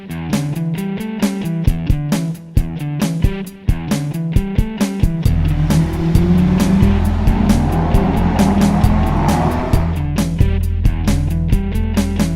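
Big cars on Rodeo Drive in Los Angeles: a close, loud engine rumble and passing traffic, with a vehicle accelerating past mid-way over a rhythmic clatter of street noise.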